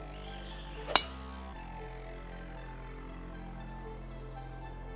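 A golf ball is struck in PGA Tour 2K23, one crisp metallic click early on, followed by a low, steady game ambience with no voice.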